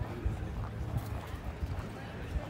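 Horses clip-clop steadily in a rhythmic patter while pulling vintage horse wagons at a festival at the Ocala equestrian center in Florida, with people talking over the hoofbeats.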